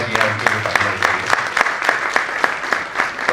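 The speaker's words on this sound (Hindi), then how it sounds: "उनके लिए तालियां बजाइए" A festival audience claps for the opening guest, a loose, fairly sparse applause with distinct individual hand claps over a faint background hum, steady for a few seconds.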